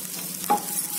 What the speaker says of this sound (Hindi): और मिर्च का पेस्ट डालेंगे और इसे थोड़ा चला लें